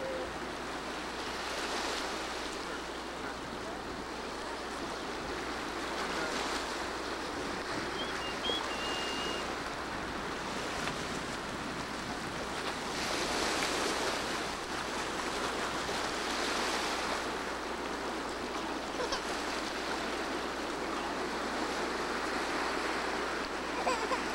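Steady wash of surf on a beach where fish are fed, a continuous broadband rush with gentle swells rising and falling, moderately loud and close, no talk.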